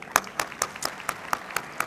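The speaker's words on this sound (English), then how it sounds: "Big round of applause, everyone." Sparse applause from an audience at a chamber of commerce event, a handful of distinct, crisp claps spaced out over a couple of seconds, fairly quiet and close.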